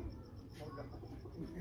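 An old-line Teddy pigeon coos in a low, soft rumble, with faint chirping above it in a brief, steady stretch.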